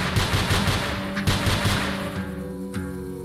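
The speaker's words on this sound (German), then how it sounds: "Hier gehen auch die Schüsse durch" Gunfire in the video game Nongunz, rapid loud bursts of shots in a dense rattling stream that thins out toward the end, with no talking.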